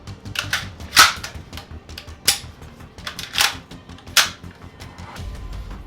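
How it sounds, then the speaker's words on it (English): Metallic clacks from an HCAR rifle chambered in 30-06 as the magazine release lets the bolt go forward, several sharp broadband snaps spread over a few seconds, close and loud with no talking. "You release the magazine release and it'll release the bolt."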